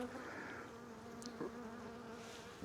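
Honey bees buzz steadily at an open hive during an inspection of a weak colony, a continuous low drone that holds evenly throughout with no talking.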